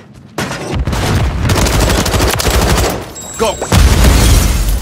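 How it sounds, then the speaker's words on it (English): Dense automatic gunfire in rapid bursts with heavy booms, including a grenade explosion, fills a Call of Duty: Modern Warfare III hardpoint match, loud and continuous, with a brief shouted command. "Throw a grenade!"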